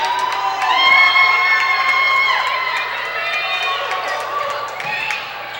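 A Hill City crowd at a Custer Wildcats vs Hill City Rangers high school basketball game cheers and shouts steadily, loud and sustained, with commentators talking over the noise.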